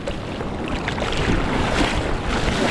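Rough, broadband rush of sea waves and surf, loud and steady, with wind buffeting the microphone throughout.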